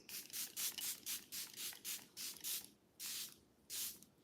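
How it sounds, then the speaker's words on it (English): Charlotte Tilbury Airbrush Flawless Setting Spray mists onto a face in a rapid run of about a dozen short, close hissing spritzes, followed by two longer bursts, with no talking. "We're gonna do one final round of the Airbrush Flawless Setting Spray from Charlotte Tilbury."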